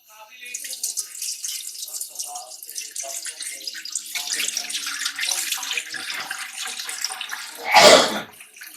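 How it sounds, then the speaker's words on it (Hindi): Milk is poured into a pot as the first step of rice kheer, giving a steady liquid splashing and trickling for several seconds that ends in a brief louder gush. "सबसे पहले हम इसमें दूध डालेंगे।"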